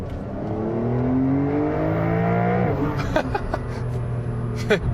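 Porsche 911 Targa 4S in Sport Plus mode accelerating hard from 50 to 100 km/h, engine note climbing steadily in pitch inside the cabin, with a brief laugh and short voices near the end.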